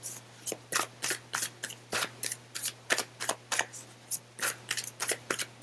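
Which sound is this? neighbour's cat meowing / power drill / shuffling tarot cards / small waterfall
shuffling tarot cards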